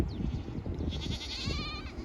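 Several goats bleat near a salt lake area in Rockport, Texas, their wavering, quavering calls rising over steady outdoor background noise, moderately close and repeated.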